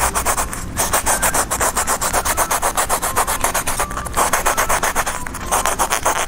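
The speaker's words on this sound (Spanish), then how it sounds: "lijarla con una lija gruesa del número 80" Coarse 80-grit sandpaper is rubbed back and forth over a wooden piece in quick, regular scratchy strokes, close and loud, with a few brief pauses and no talking.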